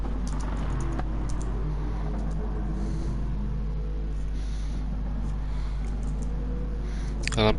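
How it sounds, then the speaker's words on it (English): Rapid typing on a computer keyboard during a sim-racing session broadcast, a steady stream of quick clicks over a constant low hum, with no talk. "I'm typing quicker than my keyboard can keep up."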